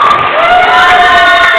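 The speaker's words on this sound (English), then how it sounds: "You can hear the crowd, how much they all enjoy the game." Crowd cheering and shouting at a bowling competition final, a steady loud wash of voices with sustained whoops filling the whole moment.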